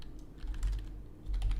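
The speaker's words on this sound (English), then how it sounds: "I am typing it in the YouTube chat as well" Quick, light clicking of keys on a computer keyboard during an online game event, a soft, fairly close burst of taps with no voices.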